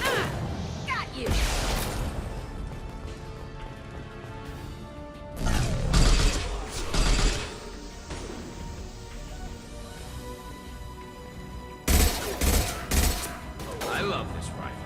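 Rifle fire from Mass Effect Legendary Edition comes in several loud broadband bursts spread across the stretch, mixed with impacts and mechanical game effects, under a steady music and ambience bed with intermittent talk.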